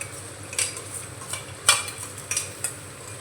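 Frying onions in a pan with an added spice paste give a quiet, steady sizzle, broken by a few sharp scrapes and clinks of a utensil against the pan.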